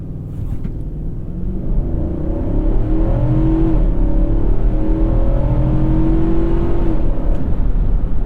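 A 2021 Infiniti QX80 SUV accelerates hard from a standstill to 60 mph, its engine growling in a steady, rising in-cabin drone that builds in loudness and holds strong, with no talking.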